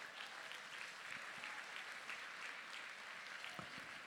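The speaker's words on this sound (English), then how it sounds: "Y'all can give them a round of applause." A seated crowd at a Junior Achievement Hall of Achievement banquet gives donors a round of applause, heard as a soft, distant, continuous patter of many hands with occasional sharper claps nearby.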